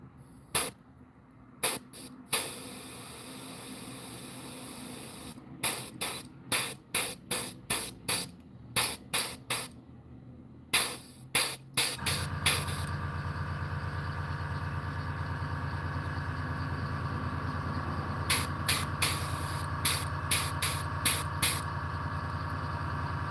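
An airbrush paints a striper or hybrid bass lure pattern: short sharp bursts of spray at first, then a continuous hiss over a steady compressor hum, with a few more quick puffs near the end.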